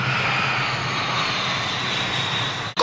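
Airplane engine roaring steadily as the aircraft flies past, a loud continuous drone holding nearly level throughout before cutting off abruptly at the end.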